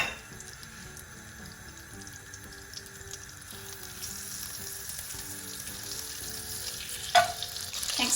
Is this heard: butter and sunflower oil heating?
yes